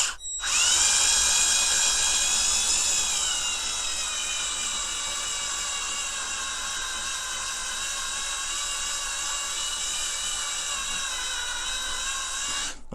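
A slow, high-torque drill bores into a Corgi 219 Plymouth die-cast model car, a loud steady whine with clear tonal harmonics that dips slightly in pitch under load and runs continuously for the whole stretch, close up with no talk.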